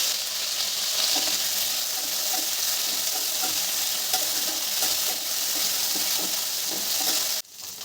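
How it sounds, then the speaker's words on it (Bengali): Boiled potatoes and taro frying in oil with cumin seeds in a wok, a loud steady hiss and crackle with light stirring, cutting off abruptly near the end. "এবার একটু সিদ্ধ করা আলু আর কচুটা দিয়ে দেব।"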